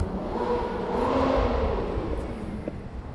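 Cars at a busy car show in London on a rainy day, an engine whirring and revving up then easing off at a middling distance over a crowded background hum.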